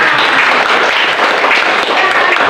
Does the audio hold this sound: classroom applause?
yes